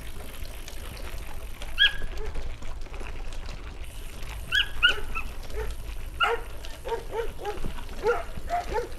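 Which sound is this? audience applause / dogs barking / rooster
dogs barking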